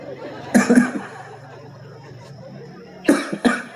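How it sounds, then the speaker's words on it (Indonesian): Two separate bursts of coughing, each a quick pair of harsh coughs, with a quiet murmuring pause between them. "Eta batuk lain ceramah."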